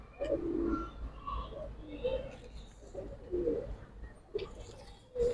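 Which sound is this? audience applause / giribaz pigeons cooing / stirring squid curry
giribaz pigeons cooing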